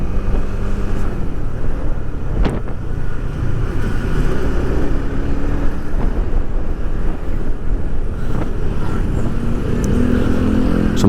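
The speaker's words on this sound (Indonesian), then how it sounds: "RPM menengah itu punya karakter mesin yang lebih kasar daripada RPM bawah" A Honda CB150X motorcycle engine holds a steady mid-range RPM on a test ride, a loud, constant rough drone mixed with heavy wind rush, with no speech over it.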